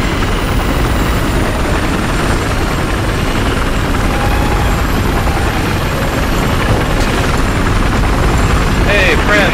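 A loud, continuous helicopter rotor roar and engine drone from inside a chopper in Battlefield 4 conquest, dense and close throughout, with a faint voice barely audible beneath it.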